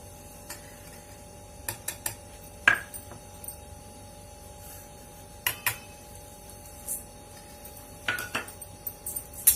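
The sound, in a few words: mixing wheat flour and sugar in a big bowl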